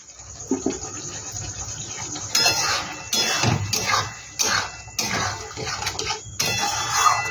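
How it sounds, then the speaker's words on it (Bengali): Water is poured from a bowl into a pan of prawn curry in a home kitchen, heard as close, uneven splashing bursts that start and stop several times. "এবার আমি আন্দাজ মতন জল দিয়ে দেবো।"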